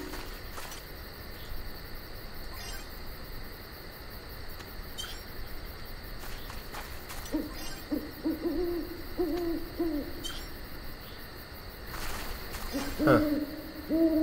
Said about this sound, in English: So that owl in the background is loud as hell because he can't be turned down for whatever reason.